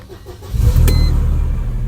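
A Mercedes SLK 230 engine, after a K40 relay repair, cranks and catches, then settles into a steady low running rumble for the rest of the moment.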